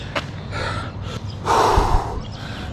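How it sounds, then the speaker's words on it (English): A runner breathes heavily with gasps and snorting, wheezing breaths recorded close on a GoPro during a slow road run toward a sub-four-hour marathon, two strained breaths standing out with no speech. "Oh, I'm wheezing a bit there."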